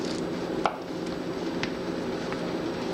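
A butter knife cuts through baked lasagna in a dish with a few soft, squishy taps and scrapes against a steady low background hum, close and quiet.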